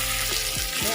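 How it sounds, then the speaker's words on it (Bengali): Tempering of spices poured into a pan for a potato, fenugreek and green pea dish hisses with a steady, loud sizzle of frying oil throughout the short moment. "এবার আমি তড়কাটা দিয়ে দিলাম"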